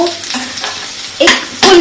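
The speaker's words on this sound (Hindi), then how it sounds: "ये हमारा प्याज भून रहा है" Onion with finely chopped garlic sizzles in a pan, a close hiss rising in short louder bursts as the pieces are stirred.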